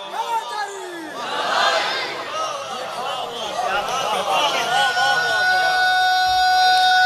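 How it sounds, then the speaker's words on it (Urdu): Large crowd at a Shia majlis shouting the Nara-e-Haidari religious chant together, a loud, sustained surge of massed voices with rising cries and a lingering tonal wail near the end. "مل کے نعرہ حیدری جیو"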